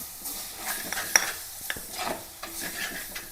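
Mango pieces and a ground coconut masala sizzling in a pan while being stirred, with soft scraping strokes and gentle frying crackle, close and fairly quiet, no talk.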